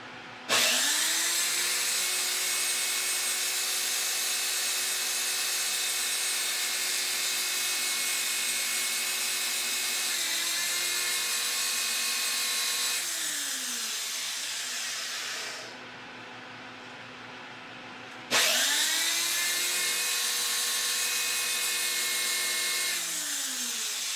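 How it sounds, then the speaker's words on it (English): A coin ring's cut edge is sanded with 80 grit abrasive on a power tool, giving a steady high whine in long continuous runs with a brief pause before the grinding resumes. "Using some 80 grit, that's cleaning it up real quick."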